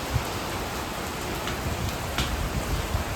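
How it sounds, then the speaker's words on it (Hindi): Heavy rain pours down in a dense, steady hiss, close and loud, with scattered heavier drops spattering on surfaces throughout. "देख सकते हो कितनी ज़ोर बारिश हो रही है"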